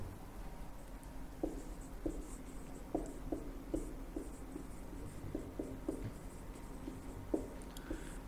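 Chalk or marker strokes on a board during a Hindi-language physics lesson on Newton's third law, a series of short, light taps and scrapes spaced irregularly over a steady room hiss, with no talking.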